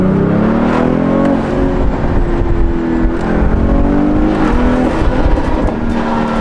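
A stock convertible's engine revs loudly close by, rising and falling, with factory-tuned exhaust pops and crackles breaking through the roar.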